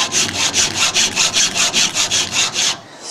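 A metal folding knife part is filed by hand with steady back-and-forth strokes, about a dozen even rasping passes in quick rhythm, close and loud, ending in quiet.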